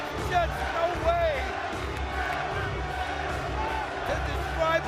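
A wrestling crowd at a TNA Turning Point Barbed Wire Massacre match yells for Sabu, a steady roar of voices running beneath close, continuous commentary.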